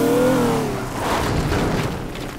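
A lorry engine in the video game Teardown drives off, with a loud, close revving tone that sweeps briefly and then settles into a rougher road-driving rumble, alone without speech.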